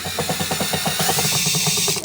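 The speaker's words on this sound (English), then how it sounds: "So I have my Athena drill by Leah" A cordless drill whirs in rapid ratcheting bursts while backing out stripped screws during a condo demolition, the rhythmic clicking pulses running steadily and close for about two seconds with no speech.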